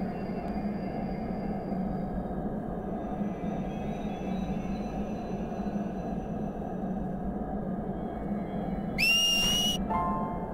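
A short, high whistle call rises sharply near the end, over a steady low ambient rumble of the Final Fantasy X-2 video game world.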